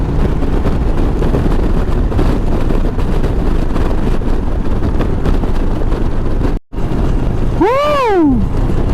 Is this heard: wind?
yes